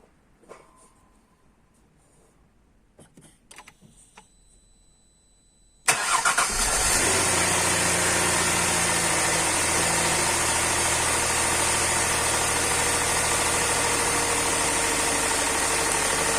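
A car engine fires up after an intake rebuild, a few quiet clicks and cranking, then a sudden catch into a loud steady idle that runs on evenly, close by and without talk.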